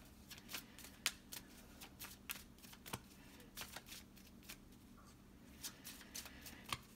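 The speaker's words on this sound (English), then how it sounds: "Let's do a few more shuffles." Tarot cards being shuffled in short bursts of soft, papery riffles and taps, close and fairly quiet, over a low steady hum with no talking.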